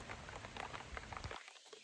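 Rain falling outdoors in a garden, a soft, dense patter of drops on surfaces, faint and steady until it cuts out abruptly partway through.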